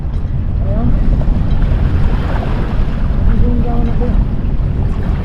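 A sailing boat's engine runs under throttle while swinging hard around onto moorings off Anglesey, a steady loud drone mixed with wind and water noise throughout, no speech.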